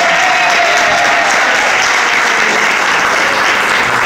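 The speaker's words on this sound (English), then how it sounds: "let's give a round of applause" An audience at a talk welcomes an actress to the stage with a full round of applause. The clapping is loud, steady and close, and it holds evenly for about four seconds with no voices over it.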